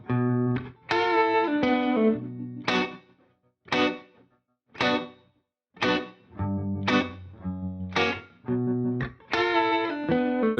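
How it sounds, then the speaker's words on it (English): Hollow body electric guitar with an open tone plays a loud, clean, choppy rhythm of short chord stabs separated by brief silences, with no voices. "Or this open hollow body sound."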